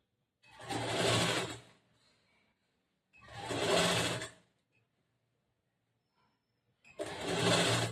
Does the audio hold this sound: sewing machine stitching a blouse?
yes